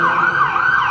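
Wailing emergency sirens, ambulance and police, on a busy Montreal street, a steady loud rising and falling tone that fills the whole moment with traffic rumble beneath.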